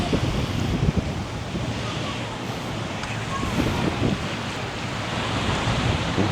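Ocean surf washes onto the beach at Sanur, Bali, a steady, moderately loud hiss of breaking waves mixed with light wind noise on the microphone.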